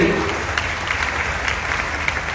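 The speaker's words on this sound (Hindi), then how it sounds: "जोरदार तालियों से" Loud, steady applause from a large audience at an outdoor live event honouring Hema Malini in the rain, dense clapping sustained throughout with a few sharper peaks and a voice faintly over it.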